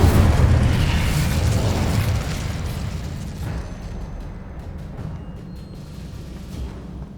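Incendio fire spell bursting from a wand in the Hogwarts Legacy video game, a loud fiery whoosh-and-boom that fades over several seconds into a low rumbling tail.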